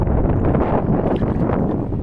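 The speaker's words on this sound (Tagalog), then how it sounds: "Yung hangin" Strong sea wind buffets the microphone in a continuous low, rumbling roar, loud and close for the whole stretch.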